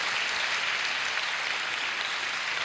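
Steady, dense audience applause fills a festival laureates' concert hall in Rzeszów, an even wash of many hands clapping without pause from start to finish, with no voices over it.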